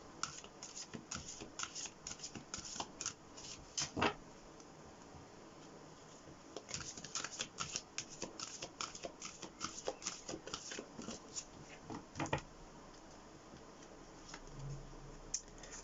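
Oracle cards shuffle in a tarot reading: bursts of quick riffling clicks and soft slaps, faint and close, come in clusters with short pauses between them.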